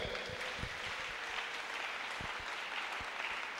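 A church congregation applauds in steady, dense clapping that holds for a few seconds without pause, moderately loud and close.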